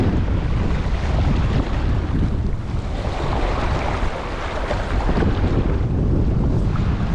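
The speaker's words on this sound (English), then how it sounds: "Wind is making it a little bit hard." Steady, loud wind buffets the microphone outdoors beside a shallow river, a continuous broadband rush that swells and dips slightly, with faint water movement beneath and no voices.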